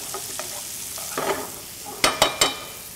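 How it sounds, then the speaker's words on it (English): Bacon and onions cooking in a pan for classic baked beans, with soft low sizzling and a few scraping stirs, then three sharp utensil clanks against the pan near the end. "So now I want to cook this down until my onions are soft and they're translucent."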